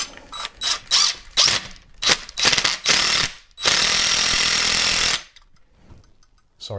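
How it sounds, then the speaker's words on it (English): Loud impact drill bursts tightening TV wall mount screws, several short rattling hits followed by one long sustained run, then silence. "Impact drill, let's get this tightened up."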